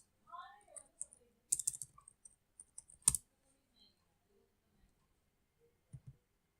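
Linux commands tapped out on a computer keyboard come as quiet, scattered clicks and short bursts of keystrokes, faint and close, with a few louder clacks.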